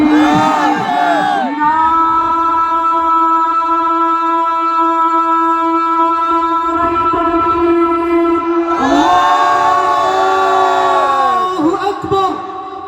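A crowd at a Bengali Quran recitation gathering chants the takbir in loud, sustained unison through a PA system, with two strong swells of massed voices, the second starting toward the end.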